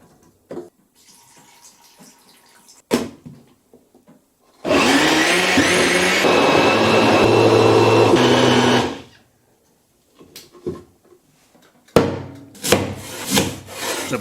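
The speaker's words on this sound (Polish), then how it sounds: "wrzuć do blendera, podlej trochę wodą i zmiksuj na gładko" A blender purees roasted pumpkin with a little water, whirring loudly for about four seconds, steady and continuous, framed by quieter kitchen clatter and a few knocks before and after.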